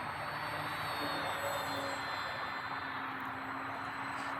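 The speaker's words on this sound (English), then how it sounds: "I'm really pointing the plane up when I'm rolling" FMS Super EZ beginner RC model airplane flying over a soccer field, its small electric motor giving a steady, continuous high whine at moderate distance throughout, with no break or pause.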